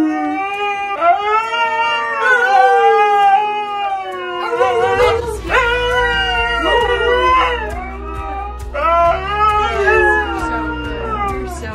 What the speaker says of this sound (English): Conan and Kodiak are super vocal. That is a trend in the Siberian Husky.